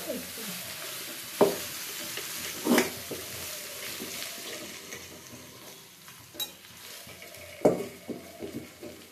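Fried rice with cashews is stirred in a frying pan, with a low sizzle under repeated scraping strokes and a few sharp clinks of the spatula against the metal, and no one speaking.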